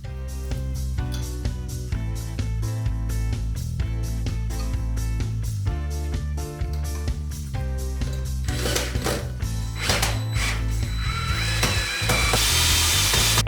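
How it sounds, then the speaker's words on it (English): Power drill boring holes for fitting a kitchen cooker hood: a loud, continuous whirring drone close by, shifting pitch as the bit bites in, running without a break for over ten seconds. "that's all the holes drilled"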